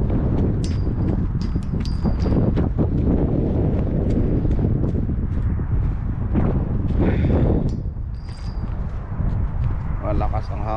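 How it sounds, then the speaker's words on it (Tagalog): Strong wind buffets the microphone on a snow-covered lake, a steady loud roar with rustling gusts running the whole time while a person talks over it. "Malakas yung hangin dito."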